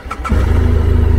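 A Harley-Davidson Electra Glide motorcycle engine cranks briefly, then catches and settles into a loud, steady, deep idle rumble with a rhythmic low-end pulse.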